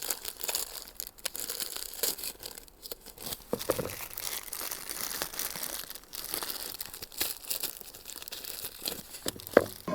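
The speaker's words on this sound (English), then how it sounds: "I'm just gonna unwrap it." Crinkling, crackling plastic wrapper being torn open from a packaged amaryllis bulb kit, close and fairly quiet, with irregular rustles and snaps running continuously and no voice.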